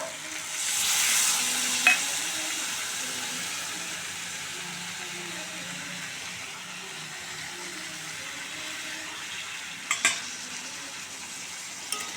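Mushroom curry sizzling in a pan with steady stirring, a burst of louder frying near the start as water goes in, then a softer continuous simmer with occasional clinks of a spoon against the pan.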